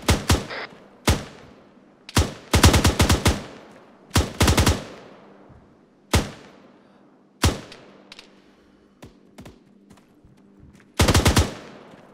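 Machine gun fire in Arma 3 rings out in separate sharp bursts and single shots, some in quick rattling clusters, spaced irregularly across the stretch and loud and close.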